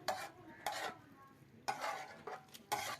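Beef liver fry stirred on a tawa with fresh coriander, several sharp scraping strokes of a spatula against the metal in uneven bursts over a faint sizzle.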